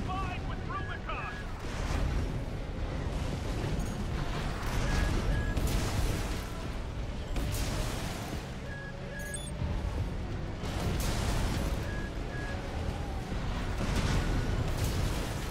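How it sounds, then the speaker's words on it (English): Rumbling booms and bursts of heavy gunfire from cannons roll on continuously beneath the Armored Core VI: Fires of Rubicon soundtrack, loud and dense, with occasional electronic beeps. "There's heavy fire coming from up top."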